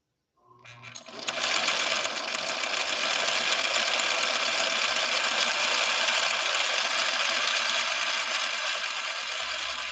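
A 1970s Husqvarna Viking Model 6030 sewing machine stitches steadily, a loud, even mechanical whir that starts after a brief pause and runs without a break.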